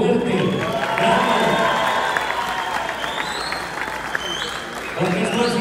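Audience at a Spanish-language comedy show breaks into loud, sustained applause with some cheering, a dense clapping roar that swells and holds for several seconds.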